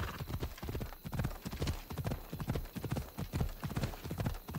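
Horse hooves clip-clop in a steady, even rhythm in the video game Assassin's Creed Odyssey, close and continuous throughout with no talk over them.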